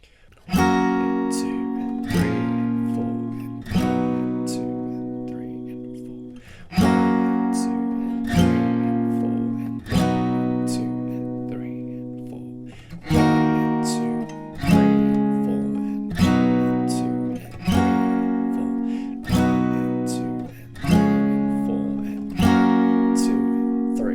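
Acoustic guitar plays the verse chords of a song, each chord strummed once and left ringing for two beats, a steady sequence of about a dozen full, close strums with no voice.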